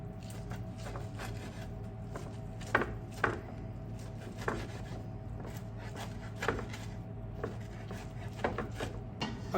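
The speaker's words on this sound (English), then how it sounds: "so we've chopped up our spinach" A knife chops spinach on a board in irregular, fairly soft thuds scattered across the stretch, under a steady low background hum, with no talk.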